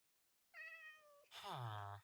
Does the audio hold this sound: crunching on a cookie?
no